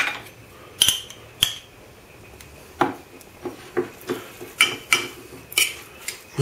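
A spoon mixes drained, flaked tuna with mayonnaise in a small bowl, making a run of sharp clinks and light scrapes in an uneven rhythm, close by and with no talking.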